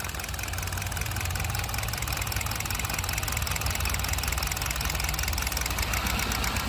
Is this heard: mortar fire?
no